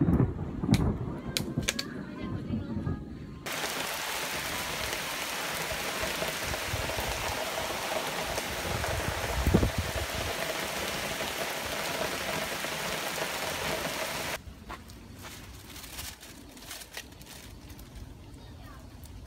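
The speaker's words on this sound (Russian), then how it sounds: "Только что попали под тропический дождь." Dense hiss of heavy tropical rain pouring down steadily in Guangzhou, China, for most of the stretch, stopping abruptly near the end; a person talks over parts of it.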